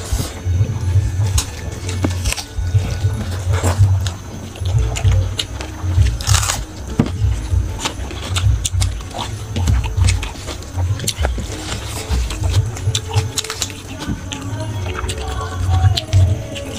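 Close, crunchy biting and chewing while eating dal, rice and vegetable curry with raw onion and green chilli, a Bengali thali meal, with steady mouth sounds and crackles throughout.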